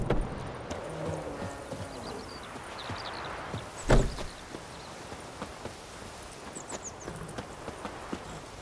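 Hoofbeats of Roach, Geralt's horse in The Witcher 3: Wild Hunt, clopping steadily at moderate distance, with one louder thump partway through and faint ambient game sounds underneath.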